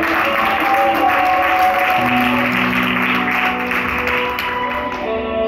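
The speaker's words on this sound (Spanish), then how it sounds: "Dale un aplauso al Señor." Church congregation applauding steadily throughout, a dense wash of clapping over sustained keyboard or organ chords, with a slight easing near the end.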